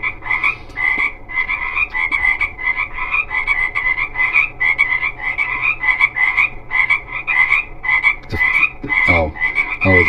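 Frogs croak in a steady, rhythmic chorus, a dense pulsing of repeated calls that runs continuously over a low background hum, with no talking.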